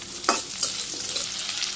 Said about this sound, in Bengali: পেঁয়াজ ভাজি হয়ে গেছে, আমি আলুগুলো প্রথম ভাজি করে নিই।